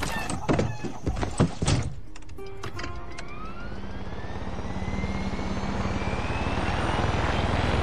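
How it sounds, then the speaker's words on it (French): Helicopter rotor and engine noise in the video game Far Cry 6 builds and then holds as a loud, steady mechanical roar, with a rising whine, after some sharp clatter at the start. "je vois un hélicoptère"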